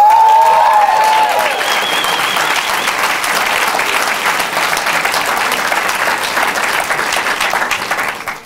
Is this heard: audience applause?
yes